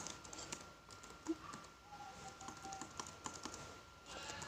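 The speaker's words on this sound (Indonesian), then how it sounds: "Di sini buka Chrome-nya, kemudian ketikkan localhost" Quiet keystrokes on a computer keyboard as the word localhost is typed into a browser address bar, a short run of soft, irregular clicks at close range over low room hiss.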